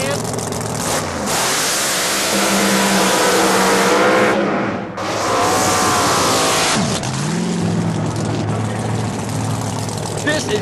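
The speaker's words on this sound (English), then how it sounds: "This is Denny Brightwell's Bright Light Camaro, the wheel stand king of the bunch." A 1967 Camaro wheelstand drag car roars down the strip at full throttle, the loud engine note climbing through gear changes with a brief cut near the middle before surging again, with voices faintly underneath.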